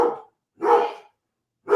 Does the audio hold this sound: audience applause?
no